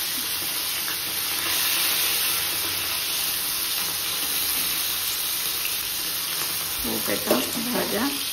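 Vegetables coated in salt and turmeric fry in oil, giving a steady hiss and sizzle throughout, with a person speaking briefly near the end.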